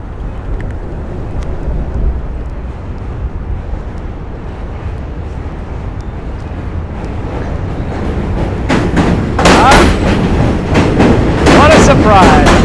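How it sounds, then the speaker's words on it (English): A New York City subway train rumbles steadily across the Manhattan Bridge with rhythmic clatter, growing louder and harsher with metallic screeches and wind buffeting toward the end. "Surprise, another train."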